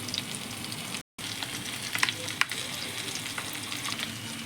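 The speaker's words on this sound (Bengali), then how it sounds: "এইবারে আমি এগুলোকে ভালো করে ভেজে নেব।" Chowmein noodles fry in a pan with Maggi masala, soy sauce, chilli sauce and tomato sauce, giving a steady, moderately faint sizzle with occasional crackles and a brief break near the start.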